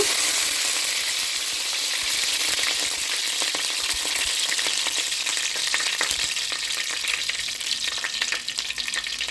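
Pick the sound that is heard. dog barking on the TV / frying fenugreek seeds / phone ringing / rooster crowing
frying fenugreek seeds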